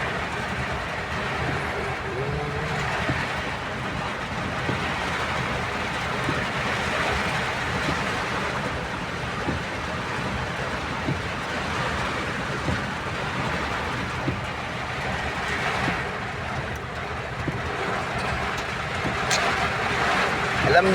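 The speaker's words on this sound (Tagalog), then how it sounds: "Lakas ng ulan." Heavy rain pouring down steadily over a parking area during stormy weather, a dense continuous roar of broadband hiss with no letup, loud and close throughout.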